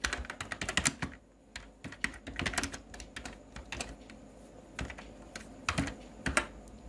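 Rapid keystrokes on a computer keyboard entering QBASIC program code, irregular clusters of close, crisp clicks with short pauses between bursts, no voices.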